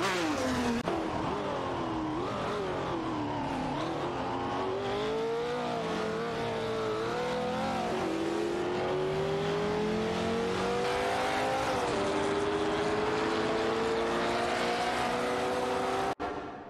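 Vintage race cars, including a Porsche 908 and a Ford GT40, rev and accelerate in a racing video game, with loud continuous engine whine rising and falling through gear changes and a brief tire squeal.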